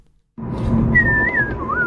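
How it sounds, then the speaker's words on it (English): Whistled melody from a person, a clear wavering tone gliding up and down over a steady low hum and room noise, close and fairly loud after a moment of silence. "Is this the whistling one?"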